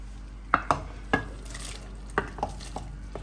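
Chicken goes into a pot of haleem, giving a handful of sharp clanks and scrapes of a spoon against the pot over a low sizzle, close by and without speech.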